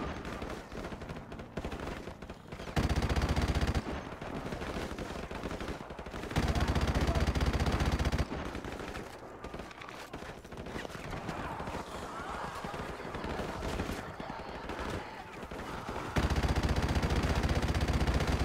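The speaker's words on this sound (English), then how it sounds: "Open fire! Nice shot, mate. Shooting him." Sustained heavy gunfire in Call of Duty Modern Warfare Remastered: dense, continuous bursts of automatic fire that swell louder in several waves, close and harsh throughout, with no voices.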